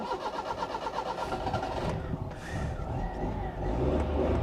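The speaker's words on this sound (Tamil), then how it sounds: "மாருதிக்கா ஸ்டார்ட் ஆகிறது" An old Maruti 800 hatchback cranks and fires up nearby, its small engine settling into a steady, throbbing idle that grows slightly louder toward the end, with no one speaking.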